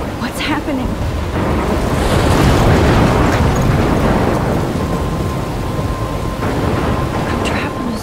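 Thunderstorm in the game Life Is Strange: heavy rain roars steadily with rolling thunder swelling loud in the middle, a dense wash of storm noise throughout.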